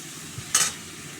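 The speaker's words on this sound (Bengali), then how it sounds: "একটু নেড়ে নেব।" A single brief scrape of a utensil against a pan as onions with a little salt fry for a fish curry, heard as one quick stir over a faint, low sizzle.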